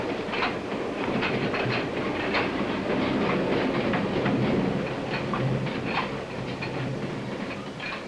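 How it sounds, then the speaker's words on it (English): A 1950s mail train runs along the rails, its steady rolling rumble broken by repeated clickety-clack beats of wheels over rail joints, heard moderately close and without voices. "The train pulled into the station on time."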